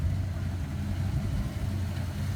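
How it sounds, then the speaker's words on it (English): A Fox Body Mustang with a 5.0 engine idles steadily up close, a low continuous rumble with a faint rhythmic pulse and no revving. "Sounds like the engine's settling down."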